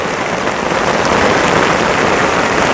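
Steady, dense rain pours down on a surface at a house in Thailand, a continuous loud hiss without pauses.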